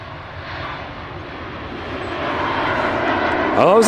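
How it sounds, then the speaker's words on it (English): A Scandinavian Embraer airliner in a new livery passes at Manchester Airport, its jet engine roar building steadily and growing louder toward the end, with a voice briefly audible near the close. "it was a Scandinavian Embraer in the new scheme"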